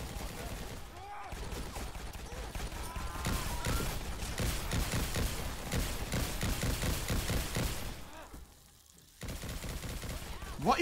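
Sustained automatic gunfire from a gun in the PC game The Pit, a continuous dense rattle of shots that drops out briefly near the end before resuming, with a voice talking over parts of it.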